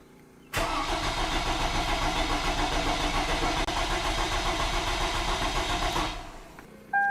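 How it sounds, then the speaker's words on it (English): A 2002-2006 Toyota Camry 2.4 engine with injectors unplugged cranking over on the starter for about five and a half seconds, loud, steady and close, without firing, then cutting off. "Let's crank it over"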